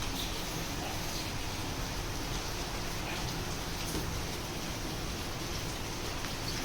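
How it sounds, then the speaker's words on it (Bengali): Rain falling outside, a steady even hiss with no distinct drops, faint and continuous throughout. "বৃষ্টি হচ্ছে"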